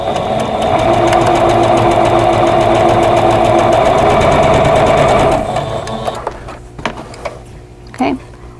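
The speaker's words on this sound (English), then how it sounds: "I'm going to sew the first two rows together" Sewing machine stitching rows of a vintage quilt block together: a steady, close, loud mechanical whir runs for about five seconds and then winds down, followed by light handling clicks.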